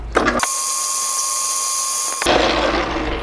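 A metal lathe faces off a part for a captive nut puzzle: a brief clatter, then a sustained high, even cutting whine lasting nearly two seconds before it cuts back to mechanical rattling.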